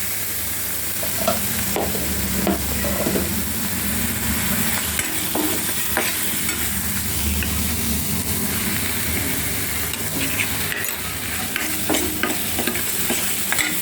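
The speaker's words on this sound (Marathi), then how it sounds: "हा चांगला मसाला परतून घ्यायचा, तेल सुटेपर्यंत" Onion-garlic masala with red chili powder sizzles and fries in hot oil in a pan, while a spoon scrapes and stirs it in repeated close strokes through a steady, even crackle.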